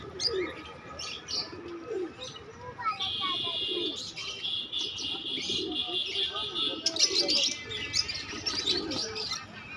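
Pigeons at the Naihati pet market coo while other caged birds chirp in quick, bright bursts, close by and fairly loud over a murmur of background market noise.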